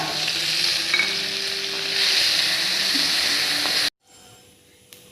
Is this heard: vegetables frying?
yes